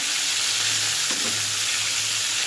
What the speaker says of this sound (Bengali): এই মাছ প্রচুর ফাটে বন্ধুরা